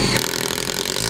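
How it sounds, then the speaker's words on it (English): A power driver runs screws into the upper bracket of a Solera awning on a 2010 CrossRoads Cruiser RV, producing a loud, close, buzzing whir that holds steady for about a second. "now we'll put in our remaining screws at the top and the bottom of our upper bracket."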